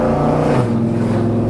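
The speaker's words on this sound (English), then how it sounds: "we're gonna take a hot lap in a 1972 Chevelle Super Sport" A 1972 Chevrolet Chevelle Super Sport, an SS 350 with a Turbo 350 transmission, roars loudly on a hot lap, its engine note dropping in pitch partway through a steady, close rumble.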